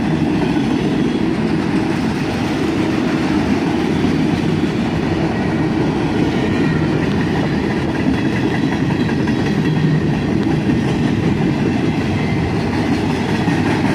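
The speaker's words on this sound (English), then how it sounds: "This train even has some auto racks on it" A freight train carrying auto racks passes close by in a continuous loud rumble of rolling wheels and cars, with a faint rhythmic clatter and no voices.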